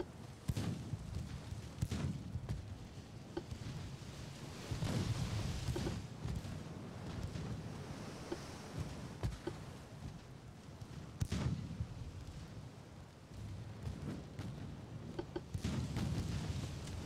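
Naval guns fire broadsides from warships in the Ultimate Admiral: Dreadnoughts game. Several muffled, distant-sounding booms come at irregular intervals over a continuous low rumble of battle ambience.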